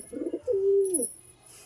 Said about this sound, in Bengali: আমি আরও দুটো পায়রা ছাড়লাম, লালদুম পায়রা